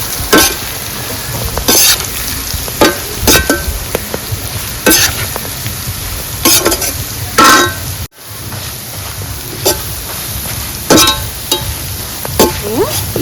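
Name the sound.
stirring bitter gourd fry with ground chili paste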